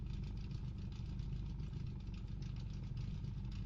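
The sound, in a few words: race car engines revving in racing video game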